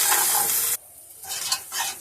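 Ginger and green chilli paste frying in a pan, loud crackling sizzle with a spatula stirring and scraping that drops away abruptly for a moment before the sizzle and stirring return in short bursts.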